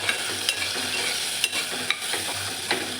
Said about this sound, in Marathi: धने पावडर, गरम मसाला, हळद, सर्व मिक्स करून घेऊ व्यवस्थित.